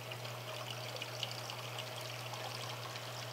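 Water pouring steadily from a carbonator dispenser while it starts up to make seltzer, a constant hissing rush over a low steady hum, with no voices.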